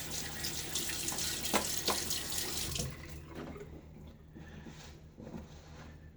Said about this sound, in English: Okay, so water on the face again.